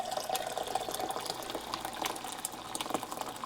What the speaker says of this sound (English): I'm going to top this up with boiling water